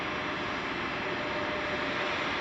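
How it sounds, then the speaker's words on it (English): A United Airlines Airbus A320 jet at Chicago O'Hare produces a steady, broadband engine roar that holds at an even, moderate level throughout, with no voices present. "the aircraft that just crossed the screen, that United Airlines flight, this one right here, is from San Antonio"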